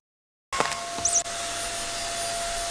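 Air whoosh effect: a steady, loud rushing blast of air that starts abruptly after a short silence and holds evenly, with a brief spike of higher noise near the start.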